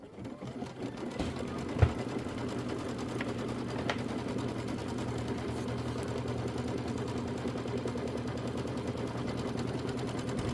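A computerized embroidery machine stitches a batting placement line for a February mini quilt, a steady rapid needle chatter holding close and even after a couple of sharp clicks at the start, with no talking.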